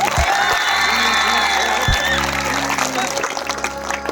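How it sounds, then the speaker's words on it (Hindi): A large seated audience at a celebration event claps and cheers loudly, with whoops and shouts mixed into the dense clapping, punctuated by a few sharp low thumps, and some voices audible in the crowd. "एक ताली यहाँ बैठे जितने भी गुरुजन हैं जिन्होंने आपको शिक्षित किया है या शिक्षा दिया, उनके लिए बजाइए।"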